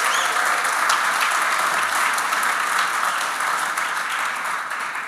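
An audience at a Boulder Chamber leadership celebration at the Boulder JCC applauds sponsors. The steady crowd clapping stays loud and fills the room, then eases off slightly toward the end.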